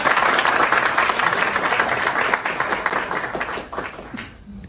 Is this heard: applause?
yes